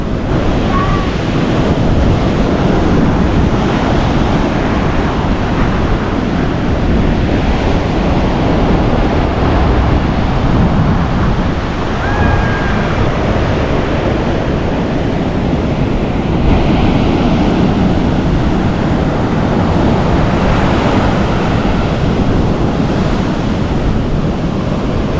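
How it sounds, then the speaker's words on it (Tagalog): Ocean waves and surf roll steadily onto the shore near Dingalan, a continuous loud wash with wind buffeting the microphone throughout and no clear break in the roar. "patangayin ka ng alon dyan"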